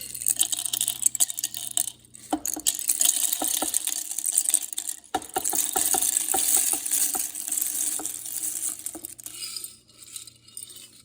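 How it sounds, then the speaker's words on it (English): Dehydrated garden peppers are ground in a grinder, producing a harsh, continuous rattling whir with crackly grit that runs for several seconds, pauses briefly, then carries on before tapering off. "I have my dehydrated peppers, and I'm gonna go and grind them right now."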